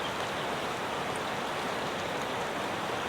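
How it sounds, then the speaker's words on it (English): Heavy rain on the wild west coast of New Zealand during tent and tarp camping, a steady, dense hiss of falling water at moderate level, even throughout with no voices. "Not that many people like camping in the rain."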